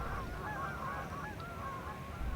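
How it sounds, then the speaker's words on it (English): Several geese honk repeatedly as they fly by in a loose, overlapping chorus, moderately close, over a steady low background rumble. "And geese flying by because, well, there are always geese."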